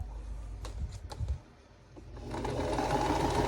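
A sewing machine stitches quilt patches in short bursts, pausing briefly before settling into a steady, fast whirring run, close and moderately quiet.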